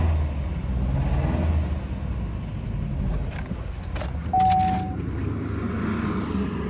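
The 2.4 liter engine of a 2010 GMC Terrain with automatic transmission and all-wheel drive runs and revs up close, its steady hum rising briefly, with a small exhaust leak at the rear.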